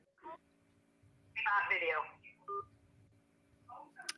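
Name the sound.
telephone dialing tones on a call-in show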